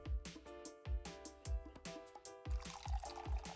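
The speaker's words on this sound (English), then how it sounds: "We are refilling the water." Water can being refilled in the Heeey! Park-Boy prototype video game: a looping liquid dripping and filling effect with a steady rhythm of soft thumps, set over game music.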